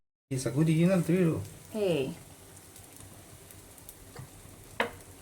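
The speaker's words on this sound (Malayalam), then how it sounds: "കാരമൽ ബ്രെഡ് ടോസ്റ്റ് ഇവിടെ നൈസായിട്ട് മുരിഞ്ഞ് വന്നേക്കുന്നു." Caramel bread toast sizzles in a pan over a low flame, a soft steady crackle running beneath stretches of speech with a sharp clink near the end.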